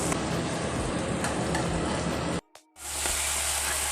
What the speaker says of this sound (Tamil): இப்போ தக்காளியை போட்டுடலாம்.